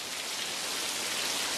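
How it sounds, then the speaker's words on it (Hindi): Heavy rain pours down in a steady, dense hiss that stays level throughout, with no talking or other sounds. "इस साल बारिश कुछ ज्यादा ही हो रही थी।"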